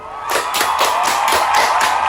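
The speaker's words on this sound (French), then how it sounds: "Ça s'applaudit, s'il vous plaît." A crowd cheering and clapping continuously for a couple of seconds, dense rhythmic claps under shouts, fairly loud and close with no separate voice.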